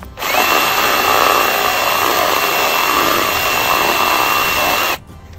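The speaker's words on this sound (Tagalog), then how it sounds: "susubukan ko siyang sundan ng drill. Ayan, guys. Lumaki na yung kanyang butas." A power drill bores into a ceramic teapot, a steady loud grinding whine running about five seconds alone before cutting off abruptly.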